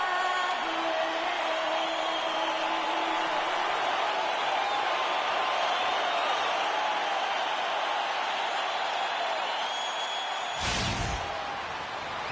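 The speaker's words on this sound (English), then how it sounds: "The crowd is assembled here at the FedEx Forum, downtown Memphis, Tennessee" A basketball video game's arena crowd at the FedEx Forum in downtown Memphis, with Grizzlies fans awaiting the Utah Jazz, fills the space with a steady, dense roar of cheering and murmur throughout.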